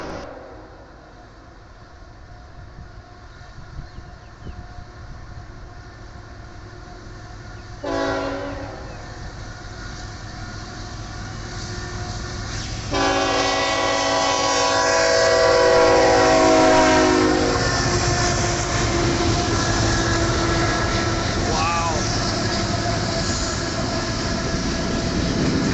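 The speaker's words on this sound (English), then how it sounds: "let's see another train roll by here in a second" A freight train pulled by a six-engine lash-up rumbles past, its horn sounding in two long blasts with a shorter blare between, the rolling roar of the cars building louder toward the end.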